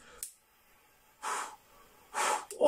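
Someone blows through a washable, reusable fabric face mask, producing two strong breathy whooshes at an even pace after a brief earlier breath, close and clear with no talk.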